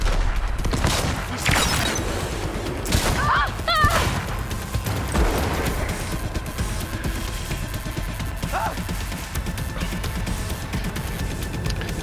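Gunfire in Cyberpunk 2077 during a downtown police fight: a dense fusillade of shots with crashes and thuds over a steady roar of game noise, loud and continuous, with brief voice-like sounds in the mix.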